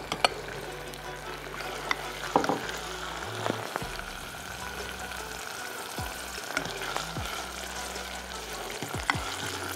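Garlic frying in a pan for Egyptian koshari, a steady close sizzle with occasional stirring scrapes and clinks of a utensil, no talking.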